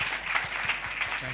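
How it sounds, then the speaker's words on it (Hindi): Audience clapping at an annual day celebration, a dense, even patter of many hands that carries on steadily through the short moment. "एक बार जोरदार तालियां इंदर जी के लिए।"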